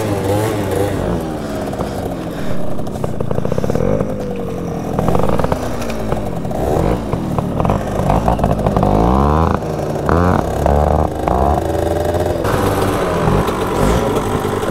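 A Zip scooter with a freshly repaired engine runs close and loud on an enduro-style outing, its two-stroke buzz rising and falling with repeated revving and throttle changes, and no voices over it.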